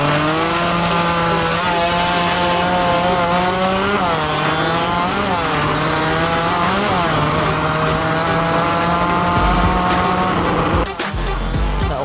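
Two-stroke rotary-engine motorcycles in a drag race, DGRT against Pataka Racing, screaming loudly at high revs with rising and falling pitch as they run, then cutting off abruptly near the end.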